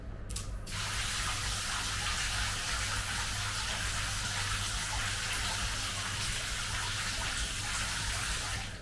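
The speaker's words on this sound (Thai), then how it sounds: "น้ำไหลแบบต่อเนื่องนะฮะอาการน้ำไม่กระตุก" Water flows steadily and unbroken from a shower head fed by a DIY pressure tank on a household pump, a loud, even hiss lasting several seconds after a brief click at the start.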